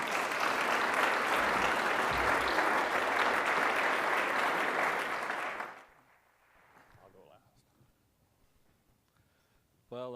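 An audience at an innovation panel gives sustained loud applause for the panelists for several seconds, then it fades quickly to quiet room noise before a voice starts speaking.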